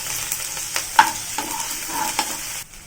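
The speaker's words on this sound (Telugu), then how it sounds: "సన్నగా తరిగి పెట్టుకున్న వెల్లుల్లి ముక్కలు, అల్లం ముక్కలు వేసి ఫ్రై చేసుకుందాం." Finely chopped garlic and ginger frying in a hot pan for veg manchurian: a moderate, continuous sizzle with light stirring clicks and scrapes scattered through it.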